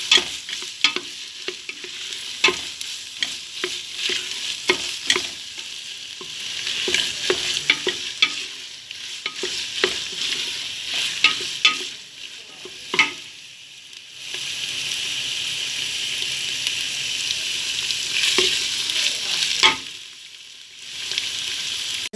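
Tomato paste fries in a pan, stirred with a spoon that scrapes and knocks against the metal over a continuous close sizzle, with short pauses in the stirring.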